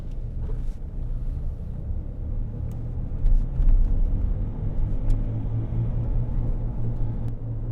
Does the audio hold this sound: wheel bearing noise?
yes